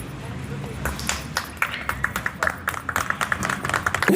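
An audience at a spiritual talk on household life claps in a dense, steady patter that builds toward the end, mixed with a speaking voice.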